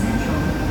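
Inside an underground station in Sydney, a Tangara train gives off a steady low rumble and hum, heard close by for a brief moment.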